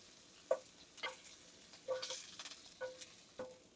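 Shrimp fry in oil in a pot for fried rice with a soft, faint sizzle. A few spaced clinks and stirring taps from a utensil stand out, and no one speaks.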